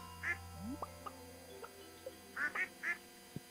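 Farm ducks in Stardew Valley quack in short nasal bursts, first a single call and then a quick cluster of three near the end. The calls are close and clear over a quiet background, with small clicks and chirps between them.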